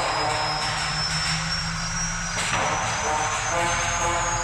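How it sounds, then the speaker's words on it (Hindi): Helicopter in the Granny Grandpa Chapter 2 mobile horror game, a steady loud engine and rotor drone running continuously throughout with a brief shift in tone partway, no speech. "हम सब हेलीकॉप्टर को कंट्रोल कर सकते हैं, हेलीकॉप्टर को उड़ा सकते हैं।"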